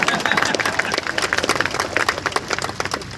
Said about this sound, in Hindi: दोबारा ताली तो बजा दो यार